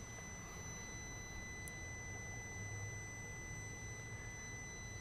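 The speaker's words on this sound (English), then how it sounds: "You can hear the beeping sound, okay?" A steady high-pitched electronic beeping tone from a 2011 BMW 535 F10 during a water pump check persists over a low rumbling background, fairly faint, with no talking.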